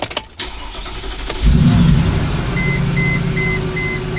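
A Mercedes G-Wagon's engine cranks briefly and then catches, settling into a steady, close idle rumble. A faint electronic chime beeps repeatedly in the background.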